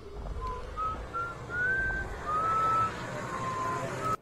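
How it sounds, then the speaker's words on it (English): A person whistles a slow, wavering tune over a low rumbling atmospheric background, with several sustained notes that rise and fall. The whistling is clear but not loud. "And whistling."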